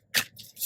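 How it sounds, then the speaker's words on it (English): Oracle cards are shuffled by hand in two quick riffling bursts, close and crisp, with no talking. "I'm going to shuffle and then I'm just going to pick 1 card"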